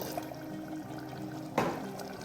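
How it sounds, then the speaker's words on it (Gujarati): Water is poured into a simmering brinjal curry gravy, a short, soft splash and gurgle that rises briefly near the end over quiet kitchen background. "ત્યાર પછી આપણે થોડું પાણી એડ કરવાનું છે"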